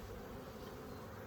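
Honeybees fly around an open hive, a faint, continuous insect buzz that stays even for the brief moment without any other sounds.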